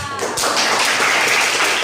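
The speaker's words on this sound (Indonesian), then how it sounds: "beri tepuk tangan untuk kelompok 2" Classroom applause for a student group, a dense burst of clapping from many pupils close by that starts after a brief voice and continues steadily to the end.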